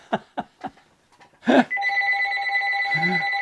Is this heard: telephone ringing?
yes